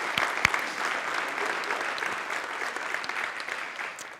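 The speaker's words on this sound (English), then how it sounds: "Let's give those folks a round of applause, shall we?" Steady applause from a convocation audience at a college gathering, dense and continuous clapping that fills the whole stretch at moderate loudness without voices on top.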